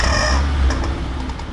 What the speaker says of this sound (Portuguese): acho que agora os frangos vão berrar